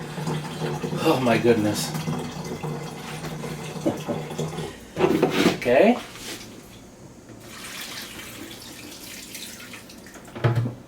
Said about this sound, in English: it was taking too long for me to fill up the pitcher or the jug in order to put more water in